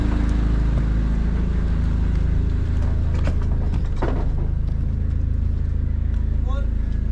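A large motorized bangka chugs along with a steady low engine rumble under the ride, while people talk and shout nearby over the constant drone.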